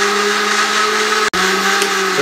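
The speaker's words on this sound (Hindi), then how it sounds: "और इसको 20 से 25 सेकंड के लिए मजीद ग्राइंड कर लें।" A blender grinds yogurt, mint and lemonade with a loud, steady whirring motor hum, briefly cutting out for an instant midway before resuming at full speed.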